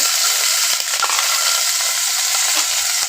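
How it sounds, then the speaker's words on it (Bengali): Ginger and garlic hitting a little hot oil in a pan on a gas stove before beef is added, a loud, steady close-up sizzle with a few sharp utensil clicks. "হালকা একটু তেল দিলাম মাংসটা ভাজার জন্য প্রথমে তেলে একটু আদা রসুন দিব"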